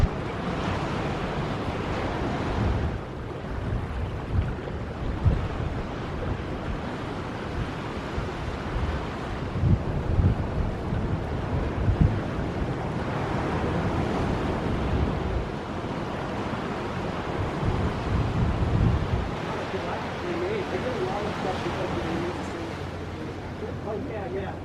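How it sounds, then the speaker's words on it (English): Gusty wind sweeps across a Northern California seashore, a loud continuous roar buffeting the microphone, swelling and easing in waves with surf rumbling underneath. "Yeah, it got pretty windy out there"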